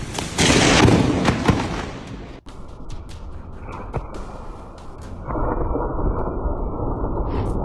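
A loud, sharp crack of thunder from a close lightning strike bursts out and then fades into a lingering rumble and crackle, with a steady background wash after it.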